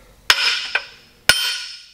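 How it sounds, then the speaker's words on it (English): Fairly large hammer striking an engine crankshaft counterweight during short block assembly: three sharp metallic impacts, the second lighter, each ringing on with a bright clanging decay, close and loud with no talking. "So I'm going to hit the counterweight here and I'm going to hit it here."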